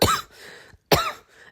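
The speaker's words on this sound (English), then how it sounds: "sorry about the coughing" Two sharp coughs about a second apart from one person close to the mic, each a loud burst trailing into a breathy throat rasp, with a brief silence between.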